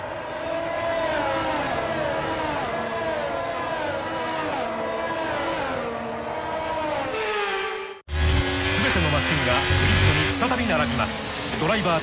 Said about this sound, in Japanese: フォーメーションラップが行われていて、レースが始まろうとしています。